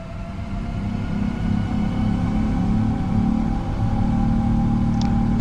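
PMDG 777-200ER jet engines in FS2024 hold takeoff thrust, giving a loud, continuous low rumbling roar that swells slightly before two short, faint ticks near the end.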